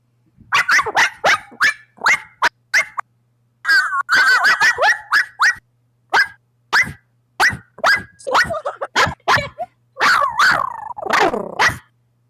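Rapid, high-pitched yapping barks in quick bursts with short pauses, a person imitating a chihuahua, loud and close, with no other talk.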